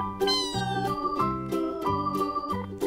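A kitten gives a few repeated high meows over cheerful, rhythmic background music.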